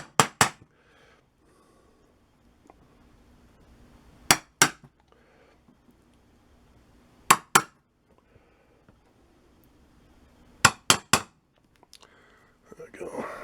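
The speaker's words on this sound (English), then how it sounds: "I want to punch a hole, or a dent actually, right in the middle of those circles" Sharp metallic hammer strikes on a center punch marking metal, in small bursts of two or three, separated by quiet pauses, close by with faint rustling between.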